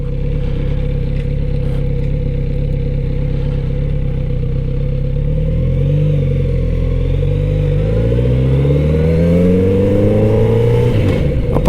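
A Kawasaki Z900RS motorcycle engine idles close and loud, then revs up with rising, sweeping pitch before settling, a continuous mechanical drone with no talk.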